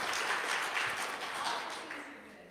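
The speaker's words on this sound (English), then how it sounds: "So we applaud you." Applause at a church service celebrating a congregant's birthday, a steady wash of many hands clapping together for a couple of seconds, fairly even and moderately loud, fading slightly at the end.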